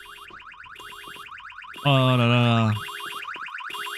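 Police vehicle alarm in the video game 7 Days to Die, beeping in a fast repeating chirp pattern broken by a loud, sustained buzzing honk, with a brief spoken exclamation over it.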